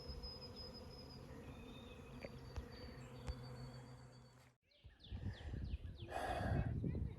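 A swarm of bees hangs in a tree outdoors, giving a faint, thin, continuous buzz with scattered insect whines. Partway through, close rustling and handling noise grows louder and masks the hum.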